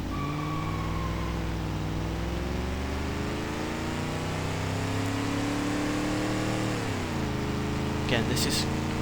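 A heavy, old body-on-frame police Burnside in BeamNG.drive revs its engine, a steady droning growl with layered harmonics that dips and climbs near the end, with a brief clatter at the close.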